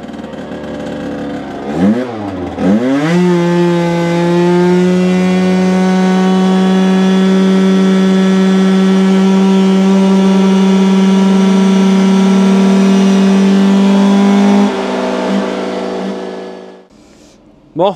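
Scooter engine fitted with a Malossi over-range variator runs on a dyno bench, revving up quickly and then holding a loud, steady high-rpm drone for about twelve seconds before cutting off abruptly.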